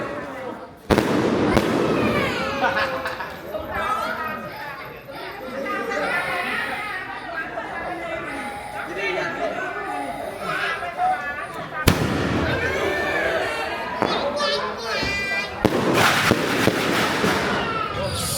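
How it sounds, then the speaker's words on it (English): Fireworks crack and burst at a village cremation ceremony in Isan, Thailand, with sharp loud bangs near the start, middle and end over continuous crowd chatter and people talking. "these fireworks that are going off here, that means that the body is being cremated at that time"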